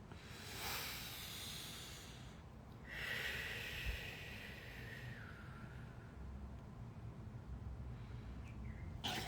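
A person takes a slow deep breath, a soft airy inhale and longer hissing exhale, close and quiet over a faint background hum with no speech.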